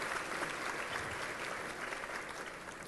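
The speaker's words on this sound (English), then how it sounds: "that's worthy of applause." A luncheon audience at a Power of Pink breast cancer event breaks into steady applause, a dense, even wash of clapping that fills the room for the whole stretch.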